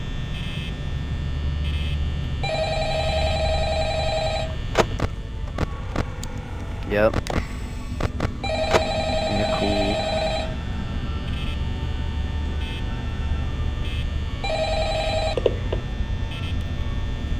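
A telephone rings in the Five Nights at Freddy's video game, with three electronic ring bursts spaced several seconds apart over a steady background hum. A person speaks briefly between the rings.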